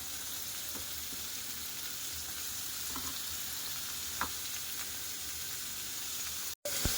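Finely chopped onion sizzles in hot oil for Punjabi kadhi, a steady, dense, close hiss with a few faint ticks, cut off abruptly just before the end.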